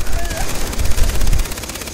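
Rapid machine-gun fire from a gunner mounted on a jeep in the shooter Far Cry 3, loud, dense bursts rattling continuously close up.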